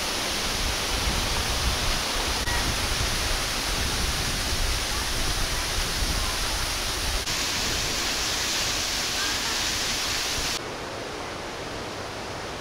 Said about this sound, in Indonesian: Angin di sini berhembus cukup kencang. Ombak lautnya juga tergolong besar.